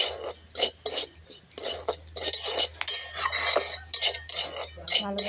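Roasted semolina being stirred in a pan, a spoon scraping and clinking against the metal in repeated short strokes, close and fairly loud with no talk.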